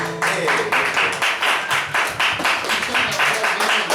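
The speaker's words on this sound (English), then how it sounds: "Give him a round of applause." Clapping from a live audience greets a performer named Jason taking the stage, rhythmic and fairly loud, with a faint voice mixed in.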